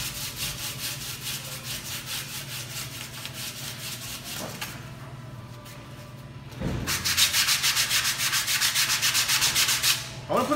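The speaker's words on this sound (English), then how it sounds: "we're gonna hit it with some 60 grit, so it's easier to sand later" Rough, steady sanding of half-dry primer on an F150 dashboard with 60-grit sandpaper, rhythmic back-and-forth strokes close up, briefly pausing then resuming louder and faster.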